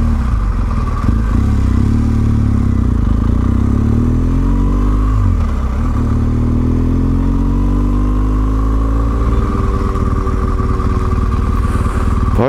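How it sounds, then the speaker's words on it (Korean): Motorcycle engines rumble and rev on city streets during a weekend ride, heard from the rider's position; a low, steady drone with rising and falling pitch as bikes pass and accelerate, loud and without talk. "바이크 소리가 뭐 많이 들립니다"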